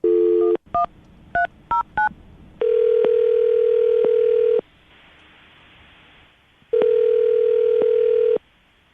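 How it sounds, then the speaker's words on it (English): Touch-tone telephone keypad beeps as a call is dialed, a quick burst of separate key tones followed by two long steady ringback-style tones with a quiet gap between them, loud and close with no talking. "I'm going to dial the phone right now"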